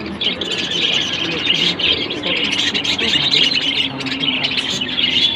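A flock of budgerigars eating corn, chirping and chattering continuously and loudly at close range in a dense, busy twitter.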